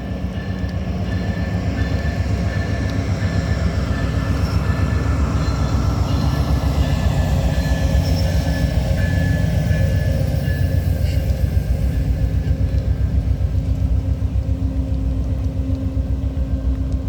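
A freight train led by NS and BNSF locomotives on CN U714 rolls steadily past at close range, a loud continuous rumble of wheels and cars with a faint high tone on top, and no speech.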